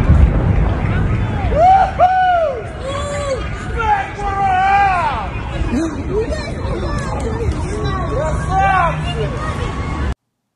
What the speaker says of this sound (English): You can hear the children cheering as debris is now falling on the city.